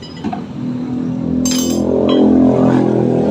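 A Honda Scoopy scooter engine idles after its rear bolts are sanded and refitted, a steady close rumble that climbs as the throttle is opened, with a brief metallic clink near the start.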